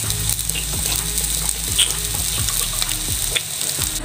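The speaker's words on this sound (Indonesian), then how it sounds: "jadi ini mie-nya udah aku goreng" Indomie noodles frying in a pan make a constant loud sizzle with crackles and spitting, heard up close and on their own without any voices.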